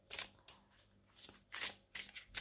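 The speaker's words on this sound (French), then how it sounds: "Je vais tirer 3 cartes." A deck of tarot cards is riffled and shuffled close up in several quick bursts of papery flutter separated by short pauses, with no talking.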